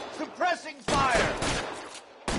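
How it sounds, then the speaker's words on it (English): Short bursts of gunfire ring out in L.A. Noire as suppressing fire, crackling loud after a brief shouted voice, then cutting off before a final burst. "Suppressing fire!"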